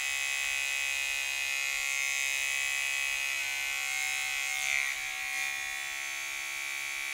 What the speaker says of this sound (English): So I have the half guard on my clippers.